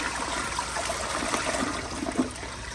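A 2001 Crane Rexmont elongated toilet flushing, with rushing, swirling water and gurgling trickles heard close and steady.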